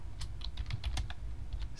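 Rapid typing on a computer keyboard while configuring VLANs in Cisco Packet Tracer, a steady run of close, crisp key clicks over a low background hum, with no voices.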